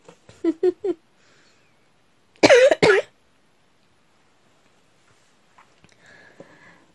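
A quick series of four short coughs, then a pause and two harsher, louder coughs close by, followed by faint background noise.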